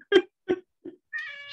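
A cat meows indoors during a community policing council meeting, giving three short, loud meows in succession followed by a longer, drawn-out cry, close to the microphone with no talk over it.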